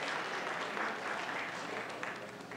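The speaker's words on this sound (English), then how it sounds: "Let's give Elaine a round of applause here." At a safety audit prep meeting, a small group breaks into applause, a dense, even patter of clapping that carries on steadily at moderate volume.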